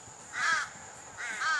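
Two crows near a beach give two separate harsh caws, fairly close and clear against quiet surroundings.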